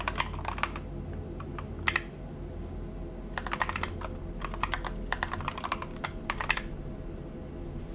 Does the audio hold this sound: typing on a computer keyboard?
yes